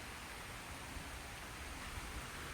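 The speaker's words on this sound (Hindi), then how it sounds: "इस वक्त शदीद बारिश है" Heavy hurricane rain pours steadily over a parking lot during Hurricane Milton, a dense, even hiss with no breaks.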